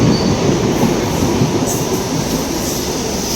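A Mumbai local train runs steadily, its loud rumble continuous and close with no talk, and a few faint wheel squeals and clicks ride on top.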